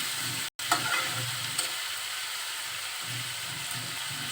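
Sliced pointed gourd and potato fry in a pan with a steady soft sizzle, broken by a brief lid or utensil clatter and a few light stirring scrapes.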